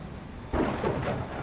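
Thunder rumbles in over a steady wash of rain, one low roll swelling suddenly and lingering through the moment in a Clanfolk game setting, with no voices present.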